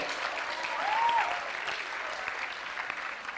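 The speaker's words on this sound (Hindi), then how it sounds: "तालियां जोरों से, जोरों से तालियां बजाइए" An audience at a Dev Anand quiz show claps loudly in sustained applause, with the dense clatter of many hands swelling slightly before holding steady.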